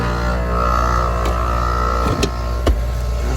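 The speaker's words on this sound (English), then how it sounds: "That's the sound of the compressor." The compressor of a central air conditioner hums steadily, loud and close, with a couple of brief clicks partway through and no talking.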